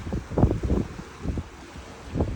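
Wind gusts buffet a sailboat at sea with the sail only partly raised, coming in rough, uneven bursts of low rumbling noise against the microphone with no voices.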